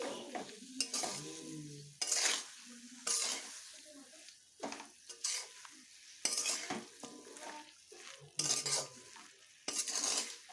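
Mustard paste being stirred into bottle gourd greens in a pan, with repeated bursts of scraping and stirring over a soft sizzle, the strokes coming in uneven clusters and the utensil clinking now and then.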